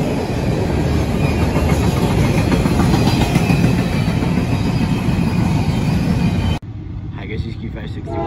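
Freight train Q561 rumbles past close by, a loud steady roar of rail cars with faint clickety-clack throughout, then cuts abruptly to a quieter scene.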